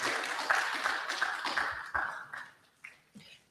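Applause from an audience after a speech at an architects registration program launch in Liberia, a burst of clapping that thins out and fades over a few seconds.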